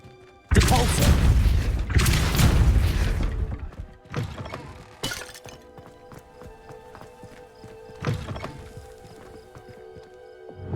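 A Depulso spell cast in Hogwarts Legacy inside a dusty, cobwebbed room, giving two loud, dense bursts up front, then a sharp thud and scattered softer clatter fading into quiet room tone with a later smaller hit.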